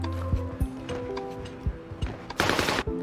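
Rapid gunfire in a video game shootout, a string of sharp close shots with an irregular rhythm, then a dense burst of automatic fire near the end.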